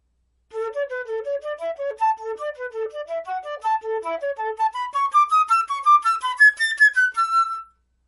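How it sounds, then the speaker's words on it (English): Flute playing the Andersen Op. 41, Etude 7 passage in triple tonguing with ta-da-ga syllables, evenly tongued rapid notes rising in pitch toward the close, solo and close with no speech. "There's another triple tonguing pattern that I also like to practice that's slightly different."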